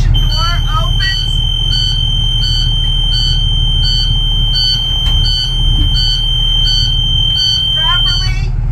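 Rear emergency evacuation door alarm on a school bus, a high electronic tone pulsing in regular bursts about every half second, loud over a low idling engine rumble, with a person talking briefly partway through.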